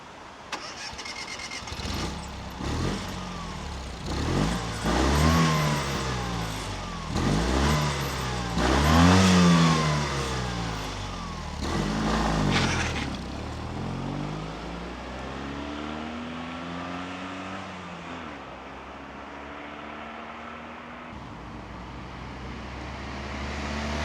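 A 1996 Fiat Cinquecento 700 engine cranks and catches, then revs up and down several times in loud bursts before settling into a rough, steady idle.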